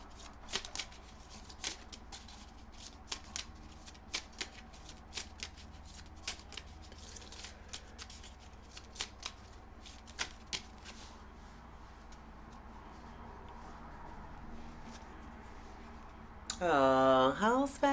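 Tarot cards being shuffled by hand, giving a run of soft, irregular riffling taps with quiet gaps between them, and a voice speaking near the end.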